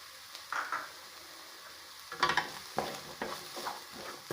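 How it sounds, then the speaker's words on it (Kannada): Grated coconut stirred into onions and peas frying in a pan, with soft sizzling and repeated scraping strokes of a spoon, close and fairly quiet. "ಇವಾಗ ತೆಂಗಿನ ತುರಿ ಹಾಕ್ತಾಯಿದ್ದೀನಿ."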